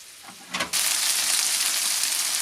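Pieces of beef browning in a pan for stew send up a loud, even sizzle. It starts suddenly after a few soft clatters and holds steady, close up, with no voices.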